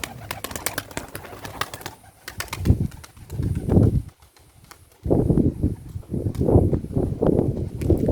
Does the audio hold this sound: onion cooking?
no